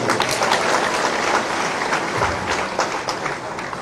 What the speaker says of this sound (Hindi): और विधायक जी के लिए भी ताली बजाओ